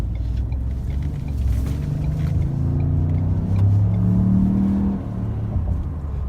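A 2017 Ford Edge Sport pulls away after a left turn, heard from inside the cabin; a deep engine rumble swells and climbs in pitch under moderate throttle, then eases off.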